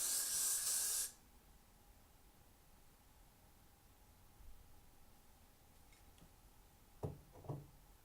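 An aerosol can sprays a cosplay wig in one loud, steady hiss lasting about a second, followed by quiet room tone and a few faint clicks and handling knocks near the end.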